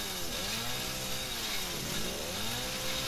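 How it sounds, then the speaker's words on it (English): A chainsaw in the video game Resident Evil 7 buzzes and revs continuously through the whole stretch, loud and rough, its pitch rising and falling in sweeping waves with no speech. "Let me guess, the chainsaw's gonna break after I open this."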